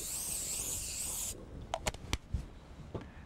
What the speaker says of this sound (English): you want to always get your pan and spray it with a little bit of oil